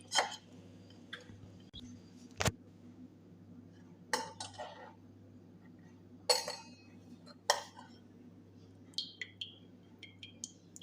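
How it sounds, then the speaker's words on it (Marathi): A metal spoon stirs homemade organic bonda juice in a vessel, giving sparse, sharp clinks and scrapes against the metal, separated by quiet gaps, close and fairly soft. "तर आता आपण हे चमच्याने ना हलवून घेणार आहोत"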